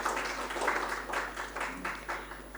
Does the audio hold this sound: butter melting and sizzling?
no